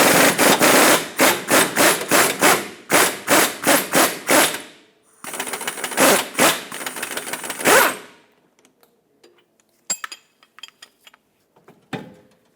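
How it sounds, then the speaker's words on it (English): A socket wrench removing a 21mm rear shock bolt on a 2004-2012 Chevrolet Colorado, loud rapid ratcheting bursts in rhythmic runs, close by, followed by sparse metallic clinks and taps. "I'm going to hold the nut with a wrench and remove the bolt with my socket."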